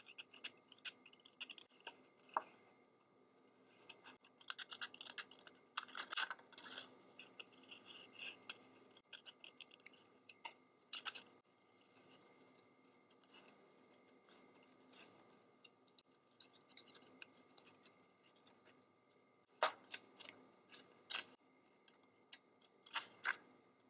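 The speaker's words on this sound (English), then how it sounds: "I'm going to fussy cut this out." Scissors fussy cutting a paper piece for a handmade floral card, a string of faint, close snips and clicks scattered over a long quiet stretch with no voices.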